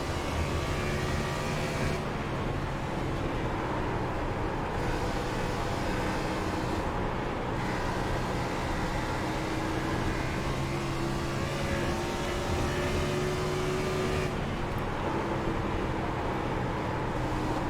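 A race car engine in iRacing at Dover holds a loud, continuous high-pitched drone, with rising and falling pitch as it revs through corners, and other cars in the field audible around it.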